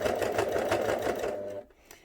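Sewing machine stitching fabric for a flat cap, a close rapid mechanical whir with a regular stitch rhythm that stops abruptly near the end.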